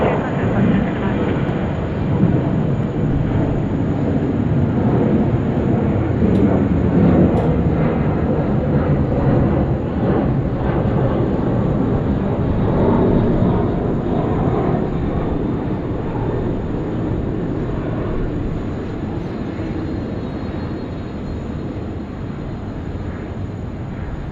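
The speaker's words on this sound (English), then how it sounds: "while we're watching all of the GE90s get started and the 747 take off" Jet engines at Sydney Airport at night, GE90s spooling up and a Boeing 747 taking off, heard as a loud broad roar that swells early and holds, then eases slightly toward the end, with no talk over it.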